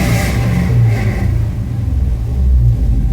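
A Chevy C10 truck engine idling high on an untuned computer, a loud, steady, close mechanical rumble with slight surges, heard alone without voices.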